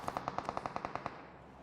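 Rapid automatic gunfire in the battle-royale game PUBG Mobile, about a dozen evenly spaced shots in a quick burst, fairly faint and distant, then trailing off into quiet background.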